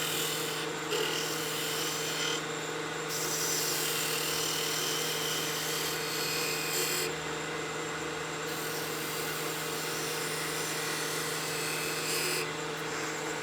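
A spindle gouge cuts a half round bead into wood spinning on a lathe, giving a steady close rasping hiss over the lathe's low motor hum, with brief lighter pauses as the tool shifts.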